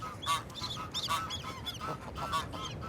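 Geese, including a restless gander, honk in a city setting in Hamburg, with repeated nasal calls overlapping in a quick, uneven series at a moderate distance.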